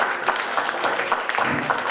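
Applause from an audience at a press conference honoring an African woman artist who plays compas, a steady wash of clapping with bright individual claps sustained throughout the short burst.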